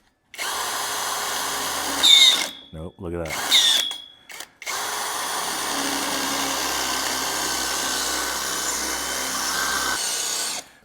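A power drill with a dull bit works on a 1956 International COE hot rod build: two short whirring bursts, then a long steady drilling run, with a brief spoken remark between them.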